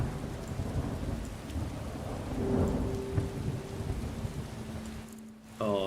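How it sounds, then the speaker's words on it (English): Steady heavy rain with low rumbling thunder throughout from a video game, a brief tonal hum near the end, no voices. "the rain is an effect"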